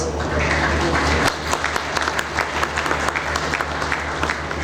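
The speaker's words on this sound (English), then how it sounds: "Ladies and gentlemen, amidst your big round of applause" An audience claps at a logo inauguration ceremony for a bank's services, with a low hum underneath and dense applause beginning after a brief lead-in and continuing steadily.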